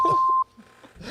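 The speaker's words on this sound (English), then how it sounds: "Oh, you're gonna hear beep, beep, beep, beep" A short synthetic sound-effect beep, a steady electronic tone held for under half a second, loud and close, with brief speech-like murmurs around it.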